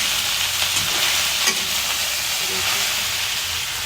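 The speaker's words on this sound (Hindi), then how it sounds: "तब तक मेरी भिंडी फ्राई हो रही है।" Okra fries in a pan with a steady, close sizzle and hiss that holds at an even level for the whole stretch, with faint stirring bumps and no voices.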